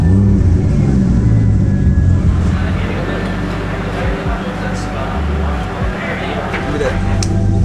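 A Toyota Carina AA60 drift car on a track in Sri Lanka gives off a loud, close engine rumble whose pitch rises and falls, with voices mixed in.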